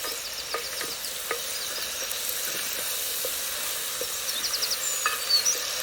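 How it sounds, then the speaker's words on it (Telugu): Freshly washed moringa leaves are stirred into a pan for dal, giving a steady, moderate sizzle with light spoon taps and scrapes that pick up slightly toward the end. "మునగాకును కూడా వేసి బాగా కలిపేసుకోవాలి"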